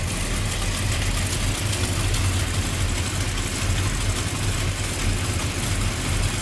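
A 1960 Chevrolet Apache truck with a small-block V8, Edelbrock intake, four-barrel carburetor and headers idles steadily up close, a loud continuous low rumble with no talking over it.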